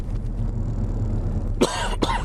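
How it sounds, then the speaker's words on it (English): Two sharp, loud human coughs close to the microphone, the second shorter, breaking into a quiet indoor room background with a low hum. "Excuse me, I still have that cough."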